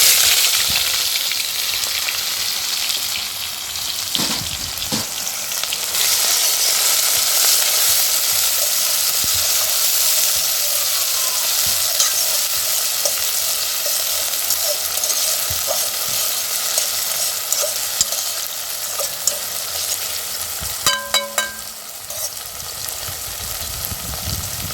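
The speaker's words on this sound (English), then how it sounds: "I love when my natural seasons fry up first before I add in anything else" Natural seasonings fry in a pot over an outdoor fire in Jamaica, giving a loud, continuous hissing sizzle with occasional stirring clatter and a short burst of metallic clinks near the end.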